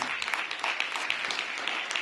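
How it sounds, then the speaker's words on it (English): Applause from the audience at a city celebration of new housing and the renovated African American Civil War Museum, a steady wash of clapping lasting a couple of seconds at moderate volume with no talk over it. "That deserves another round of applause."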